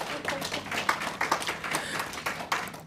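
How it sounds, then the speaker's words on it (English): A scattered round of hand clapping from a small conference audience, steady and moderately loud for a few seconds. "Please clap for yourselves for being here."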